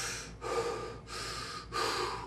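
A voice imitates Goku from Dragon Ball Z breathing heavily: three long, close, harsh breaths in a steady rhythm, each broken by a short pause.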